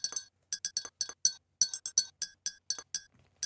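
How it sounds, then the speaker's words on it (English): A glasses-clinking sound effect in the Incredibox Mayonnaise mod music game, a rhythmic sequence of bright, sharp glassy clinks repeating in a looping beat pattern, clear and isolated against silence. "It's like the sound of like glasses clinking together or whatever."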